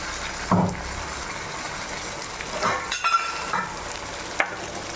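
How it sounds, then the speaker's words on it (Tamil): Brinjal and potato gravy sautés in oil with salt and tamarind, giving a steady close sizzle broken by a few scraping stirs of the spoon, with no voices. "இதுக்கு தேவையான உப்பு போட்டு நல்லா எண்ணெய் புளியை வதக்கணும்"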